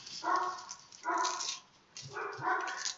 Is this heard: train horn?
no